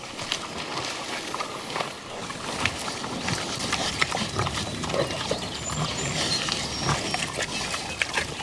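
Several pigs close by, grunting and snuffling in short irregular bursts over shuffling movement and clattering noise.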